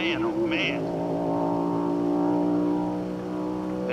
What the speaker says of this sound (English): 29 Ford Roadster, the vintage hot rod, working on an open record